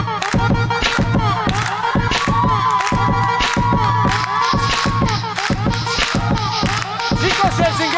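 A television studio audience claps and cheers loudly and steadily during a show appearance, a dense continuous roar of applause mixed with shouts and a musical tone under it.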